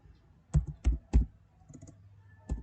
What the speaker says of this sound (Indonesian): kita ketik kata kunci berkebun kopi